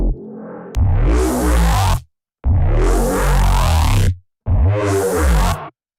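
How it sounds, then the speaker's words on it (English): Three heavy bursts of a synthesized bass patch built in Alchemy from the Bass Monsters set, each a growling, menacing low tone with a gritty upper sweep, separated by short silences and loud, with no talking. "like this is my favorite bass that I've made"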